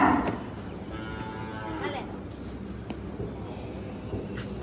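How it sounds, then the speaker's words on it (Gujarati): A cow at a cow shelter gives a drawn-out, moderately loud moo near the middle, over steady barn background noise. "પેલી ગાય ઉપર આવી ગઈ છે."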